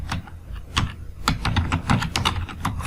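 Fingers tap quickly on a computer keyboard while typing a browser search, a close, dense run of light irregular clicks with no voices.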